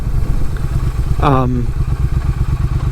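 A motorcycle cruises steadily at around 35 mph on a Florida winter ride, its engine giving a continuous low, even drone throughout with a brief voice cutting in partway through.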